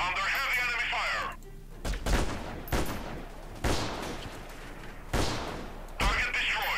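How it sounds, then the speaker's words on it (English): Heavy enemy gunfire in the Freeman Guerrilla Warfare video game: loud, booming bursts of shots land at uneven intervals, roughly five blasts in a few seconds, following a short stretch of voice at the start. "Under heavy enemy fire."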